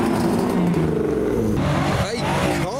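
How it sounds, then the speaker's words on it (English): BMW M6 with a carbon bonnet at a car show, its engine revving hard and loud up close, climbing and dropping in quick bursts over a continuous roar. "carbon bonnet on the M6, revving the nuts off it."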